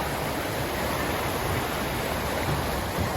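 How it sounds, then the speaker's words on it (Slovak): Steady roar of a waterfall in icy cold mountain water, a continuous broadband rush at close range with no voices over it. "Á, vodopád číslo 2."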